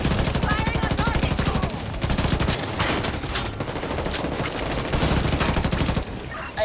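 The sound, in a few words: gunfire in the video game The Division 2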